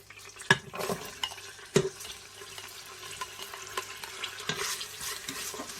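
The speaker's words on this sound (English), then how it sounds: "2 tablespoons of oil again. And then I'm going to add the onions." Onions frying in about two tablespoons of oil in a pan for a pressure-cooker lamb bourgogne, with a soft, quiet sizzle broken by a few sharp utensil clanks against the pan early on and no talking.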